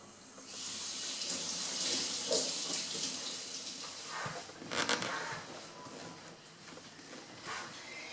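Water runs steadily nearby while cleaning product is rinsed out of a dishwasher interior, with a few brief knocks and clatters partway through.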